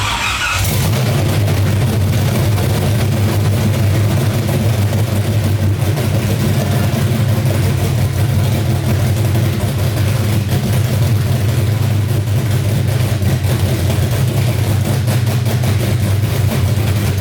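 An LS V8 engine swapped into a BMW E30 runs loud and steady at close range, a deep continuous rumble with no pauses and no voices over it.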